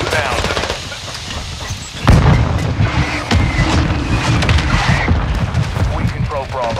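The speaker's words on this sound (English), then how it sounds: "Friendly mortar strike inbound." Mortar strike explosions in the shooter game Call of Duty: Modern Warfare 2, heavy booms landing around the two-second mark and repeating through a dense mix of gunfire and battle noise, under game radio chatter.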